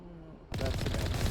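Turret gunfire in Mass Effect erupts after a half-second of quiet, a rapid, dense burst of loud shots that fills the rest of the short moment.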